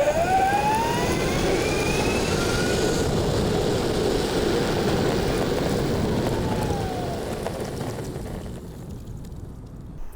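An electric longboard with 90mm hub motors on 10S voltage whines and roars loudly as it accelerates hard, rising motor tones over rolling wheel rumble, then the noise eases and fades as it brakes near the end.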